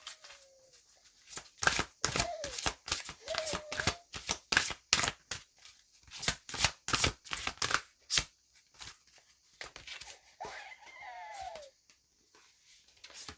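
Archangel oracle cards are shuffled by hand in close, crisp bursts of riffling and slapping, pausing briefly between rounds, with a few faint voice sounds.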